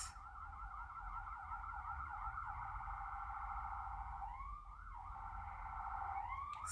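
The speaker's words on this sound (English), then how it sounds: "Okay, we have sirens." A wailing siren sweeps up and down continuously, steady and fairly distant, with a second siren tone joining near the end over low traffic rumble.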